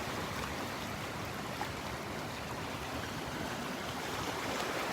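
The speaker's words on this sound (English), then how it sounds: "The sound of those waves." Steady roar of ocean surf washing onto a beach at Delnor-Wiggins, a continuous broadband wash without distinct breaks, with no voices.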